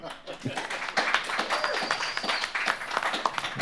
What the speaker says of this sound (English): Let's give a round of applause for them too.